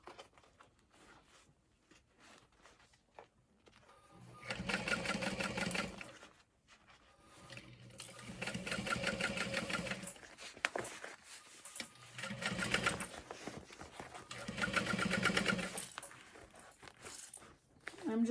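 A sewing machine stitches slowly around the curved edge of a tote bag in several separate bursts of moderate, close whirring, with quiet pauses in between.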